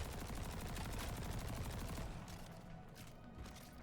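Rapid automatic gunfire in the video game Destiny, a loud continuous stream of fast shots that thins and softens over the last couple of seconds.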